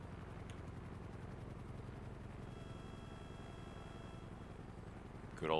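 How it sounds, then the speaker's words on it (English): Rotor drone of a local helicopter flying nearby in a video game roleplay, a steady low chopping throb that holds evenly throughout, with a brief louder burst near the end. "I think it's a local heli."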